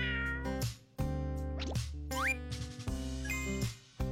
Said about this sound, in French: Un chat grimpa dans la boîte.